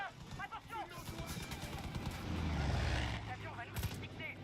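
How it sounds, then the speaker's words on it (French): Gunfire in the video game Far Cry 5, with several sharp shots and a late burst of fire rising over a low rumble while someone talks throughout. "Ça tire."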